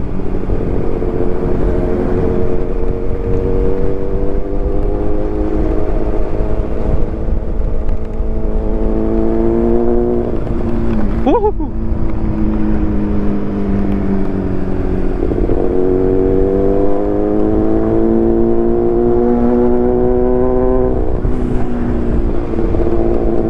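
Motorcycle engine held at a steady drone while the rider does a wheelie, close and loud throughout, with the pitch dipping and climbing in slow swells, one brief sharp blip near the middle, and a long rise toward the end.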